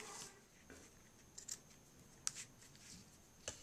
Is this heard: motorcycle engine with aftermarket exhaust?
no